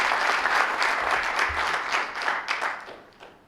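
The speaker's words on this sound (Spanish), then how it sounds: "Un aplauso para ustedes." A seminar audience breaks into applause, many hands clapping in a dense, sustained burst that stays strong and then gradually thins and fades toward the end.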